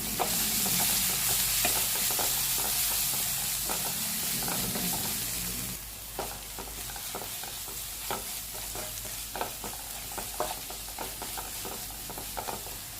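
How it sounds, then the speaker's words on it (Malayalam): Chili powder, garam masala, turmeric and pepper stirred in a hot pan, an opening hiss of frying that eases into rhythmic scraping and tapping of a spoon, close and continuous with no speech. "ഇനി ഇതെല്ലാം കൂടി നന്നായി മിക്സ് ചെയ്യാം"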